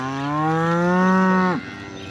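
A single cow gives one loud, close moo during spring cattle work, rising and holding for about a second and a half before breaking off abruptly, followed by quiet outdoor ambience.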